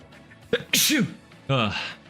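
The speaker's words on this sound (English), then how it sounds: "Wait, I have to sneeze." A person gives one sharp, close sneeze, preceded by a quick inhale and followed by a short vocal sound.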